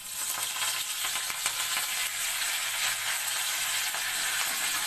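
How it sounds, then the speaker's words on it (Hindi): Panch phoron and chillies frying in hot oil for an aloo fry, giving a steady, close, loud sizzle and crackle that holds evenly throughout with no talk. "हमारा तेल गरम हो चुका है। मैं इसमें 5 फोरन और मिर्चा डाल रही हूँ।"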